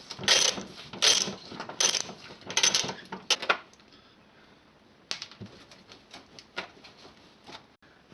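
A hand ratchet clicks in quick bursts while taking out a 10mm bolt and T20 Torx screws from a VW Golf front bumper, loud rattling strokes first, then sparser, quieter clicks with pauses.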